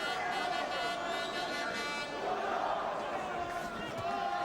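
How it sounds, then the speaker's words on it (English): Boxing arena crowd chanting for the fighter Woodall, a loud, rhythmic swell of many voices that surges midway, carrying on without commentary over it. "the chants of the crowd"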